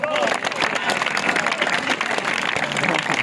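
A school audience at a magic show claps steadily for a few seconds, a dense crackle of many hands, while the magician talks over the applause.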